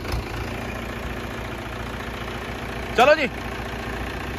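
A Mahindra 575 tractor engine idles with a steady low diesel rumble close by, while someone briefly speaks over it.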